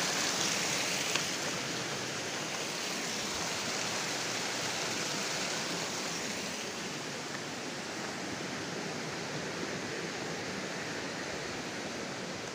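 A small stream flows near a waterfall, giving a dense, continuous rushing hiss that stays loud and even throughout without any talking.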